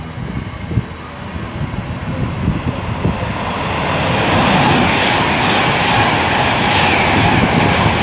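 A Pendolino train approaches on the West Coast Main Line at Rugby. Its broad rushing roar builds steadily and grows louder toward the end, with no talk over it.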